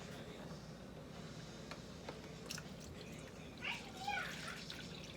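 Liquid for a homemade rose body butter trickles into a container in a soft, continuous pour, faint and close, with a few small splashes and clinks toward the end.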